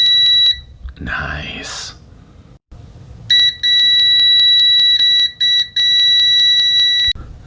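Continuity beeper on a VENLAB VM-600M budget multimeter, a loud steady latched tone sounding for several seconds at close range after a brief spoken word and some handling noise.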